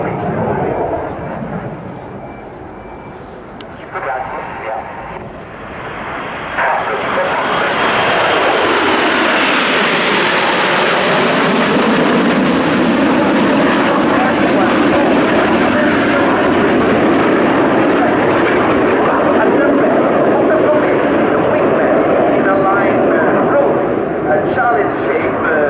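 Frecce Tricolori aerobatic jets in a flying display at the Royal International Air Tattoo 2019, loud roaring engines that swell as the formation passes close overhead and then sustain a broad rumble, with a commentator talking over it.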